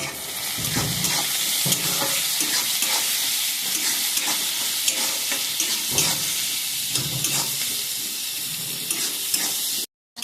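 Chopped onions fry with salt in oil in a pan, a loud, dense, continuous sizzle and hiss heard close up, with occasional stirring scrapes and no voices.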